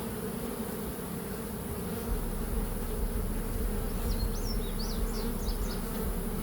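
Honey bees buzzing around hive frames in a queenless colony, a steady close drone that holds throughout, with a few faint chirps over it.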